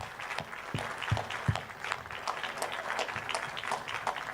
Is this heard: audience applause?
yes